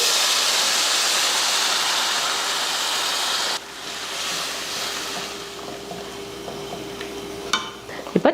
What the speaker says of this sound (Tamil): நான் வந்து சுடுதண்ணி வந்து காய வச்சுருக்கேன் அதை வந்து இதில் சேர்த்துருவோம்